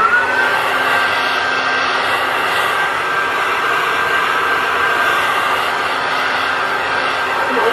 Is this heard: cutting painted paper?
no